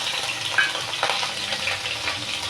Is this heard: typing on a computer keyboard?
no